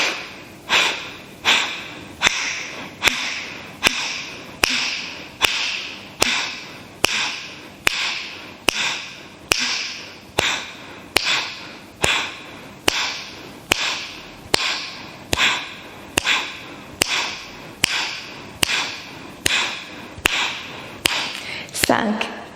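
Kapalabhati yoga breathing in a class, a long series of rapid, forceful nasal exhalations in a steady rhythm of roughly one per second, close and sharp, with no talk over them.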